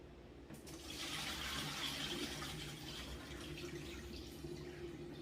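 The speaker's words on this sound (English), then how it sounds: "first dump all the water into the sink" Water pours steadily into a kitchen sink, dumped from a bowl of chicken thighs, a continuous broadband splashing rush that holds evenly for several seconds with no talking.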